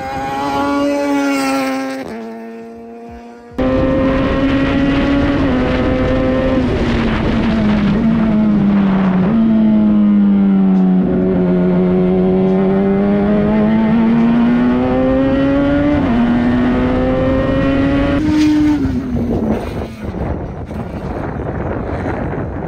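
A Radical SR3 race car laps a circuit, its high-revving engine screaming loud and close, rising and dropping through gear changes and corners, with wind buffeting the microphone and no talk.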